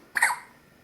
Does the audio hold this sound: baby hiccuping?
yes